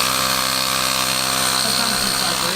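A handheld Ryobi P737 18-volt cordless air compressor inflator runs steadily and loudly close up, giving a continuous motor drone with a constant tone that does not change for the whole stretch.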